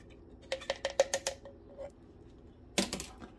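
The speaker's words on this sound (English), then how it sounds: "Lid's going back on" A lid clicks and snaps back onto a container of fermenting rhubarb honey mead, a quick run of light taps followed by a louder rattling press, close and alone.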